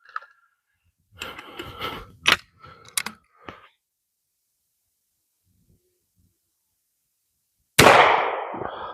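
A Norinco JW83 12 gauge shotgun fires with rounds hitting steel targets, giving a few sharp cracks and clanks early on, a pause of near silence, then one loud blast that rings out toward the end.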